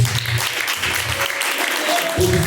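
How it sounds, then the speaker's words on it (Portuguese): A church congregation applauds during a live worship service, a continuous wash of clapping with a steady texture, while low voices and faint tones sit beneath it. "Palmas que louvam a Deus."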